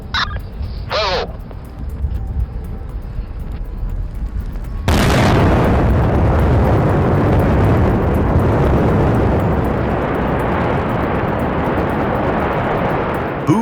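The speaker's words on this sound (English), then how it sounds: "The blasting at Peñasquito mine is like watching the earth breathe fire." A huge blast at the Peñasquito open-pit mine bursts in after a few seconds of quiet with crows cawing, then rolls on as a loud, sustained rumble of falling rock and debris.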